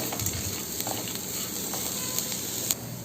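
Beetroot and coconut sauté in a pan while being stirred, giving a steady close sizzle with occasional light scrape and clatter accents and no talking.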